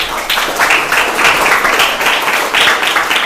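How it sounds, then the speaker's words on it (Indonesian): Audience applause at a Ramadan religious lecture and pesantren gathering, a short burst of many hands clapping in uneven pulses, fairly loud and close, with faint voices mixed in. "tepuk tangan dulu buat kita semuanya."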